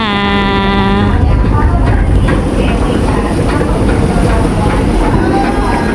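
A train on the San Agustin to Lucena line beginning to move: a loud low engine rumble and rolling rattle build steadily, with a brief horn-like tone at the start and a voice talking over it.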